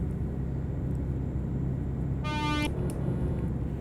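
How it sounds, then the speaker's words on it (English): A brief, fairly faint stock truck horn, not an air horn, toots once for about half a second over a constant low engine rumble in Euro Truck Simulator 2 multiplayer. "Can barely hear my horn."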